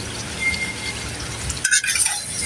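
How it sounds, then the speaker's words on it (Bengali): Chicken pieces stir-frying in a pan for a chicken, tomato and pea curry, a close, steady sizzle with scraping of the spoon and a sharp metallic clink near the end. "এর সাথে আরো মাংসগুলো দিয়ে আমি কষিয়ে নিব।"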